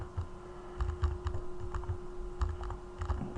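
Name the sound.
typing a password on a computer keyboard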